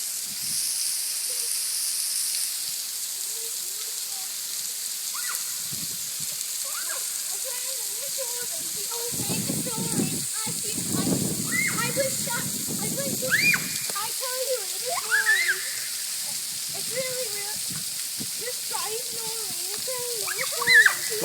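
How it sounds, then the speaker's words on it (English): Waterfall at Petit Jean State Park, a steady broadband rush of falling water heard nearby throughout, with people talking and a voice over it. "you want to come touch the waterfall?"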